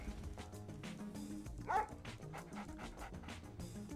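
Dogs bark in the C&C Mental Omega real-time strategy game: quiet, brief yips and barks under dense battle sounds and music, with one sharper yelp standing out briefly.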